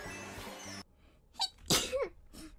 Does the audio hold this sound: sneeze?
yes